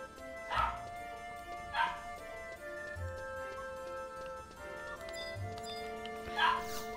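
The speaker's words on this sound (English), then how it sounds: "oh, that dog will not stop barking." A dog barks repeatedly in short bursts, three clear yelping barks spaced a second or more apart, fairly close, over a steady background of game music with no talking.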